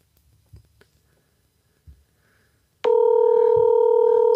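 A telephone ringback tone sounds while a call is placed, a loud, steady electronic tone that starts abruptly after near silence broken by a few soft knocks, and it continues to the end.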